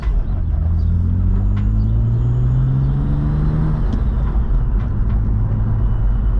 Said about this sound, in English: Even idle's fine, which that idle control valve, the way that I routed it, seems to be working okay